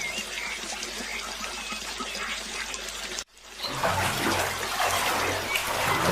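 Water sloshes and splashes steadily as a crow bathes in a cartoon story, a continuous wet wash that cuts out briefly and then returns louder and closer, with no voices over it.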